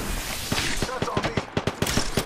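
Rapid bursts of automatic weapon fire in the battle-royale shooter Apex Legends, a string of sharp shots that grows denser and louder toward the end, with a voice briefly talking underneath.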